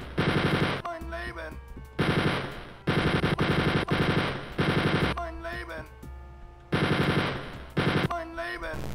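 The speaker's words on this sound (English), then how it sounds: "I should probably use my chain gun for this." Rapid bursts of chain gun fire in the video game Wolfenstein 3D, loud and close, in several long sustained volleys separated by short pauses, mixed with game sound effects and enemy cries.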